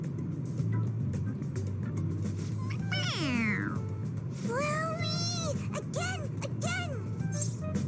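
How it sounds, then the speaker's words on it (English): A stuffed toy cat from Persona 5 Royal lets out a few electronic meows when pressed, the cries bright and repeated over a steady low hum of game background noise. "It's a stuffed animal, little girl. Yeah, it's just a toy. It meows when you press on its head."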